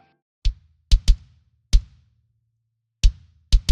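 MIDI main kick and sub kick drums layered together, a sparse pattern of punchy kick hits with deep low tails, irregularly spaced with a few quick doubles, dry and alone.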